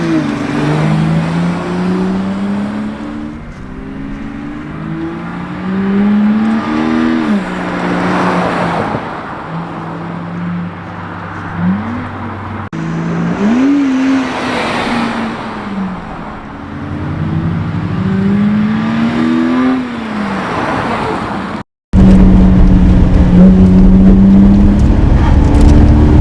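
A BMW E90 fitted with a cold air intake drives and accelerates repeatedly, engine note climbing through several gear shifts with intake whoosh, close and loud, ending in a sudden blast of rushing wind noise.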